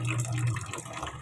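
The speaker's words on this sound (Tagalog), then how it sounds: "Tignan nyo pong tulo." A weak trickle of water dripping and running from a household tap during a drought, a thin steady flow heard close by with a faint low hum beneath it.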